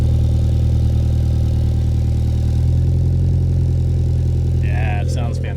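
A Japanese car engine idles steadily and close by in Osaka, a low continuous rumble holding even throughout, with a brief higher squeal near the end.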